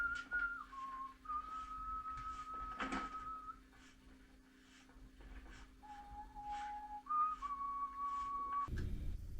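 A man whistles the theme tune of a James Bond film in clear sustained notes, pausing briefly between phrases, with a soft background hum and a clunk at the end.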